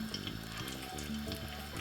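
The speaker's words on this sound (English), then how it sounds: "fry it off in the oil for a second." A garlic clove sizzles and fries in hot oil while cooking a Jamaican-style salt fish fry-up, a quiet, steady crackle running briefly and alone.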